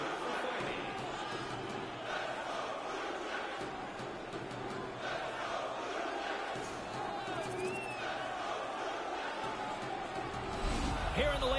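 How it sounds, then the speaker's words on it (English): Arena crowd in the NHL 22 hockey video game, a steady buzzing murmur of fans filling the space with a commentator talking over it. "this crowd still buzzing after what we saw just a few moments ago"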